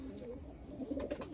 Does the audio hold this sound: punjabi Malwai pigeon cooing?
yes